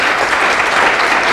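Audience applause at a poetry book dedication ceremony, a dense, steady burst of many hands clapping filling the room throughout.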